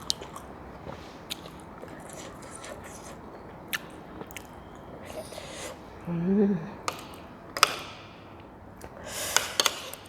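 Someone eats stir-fried white lingzhi mushrooms with oyster sauce and hot steamed rice, making soft close bites and moist chewing with occasional sharper crunchy clicks, while quiet talk runs faintly underneath.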